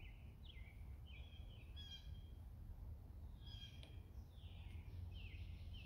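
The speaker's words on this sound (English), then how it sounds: "Mine is the birds. I don't know if you can hear them." Birds sing outdoors, faint and somewhat distant, with short high chirps and descending whistled calls recurring over a low steady hum of background noise.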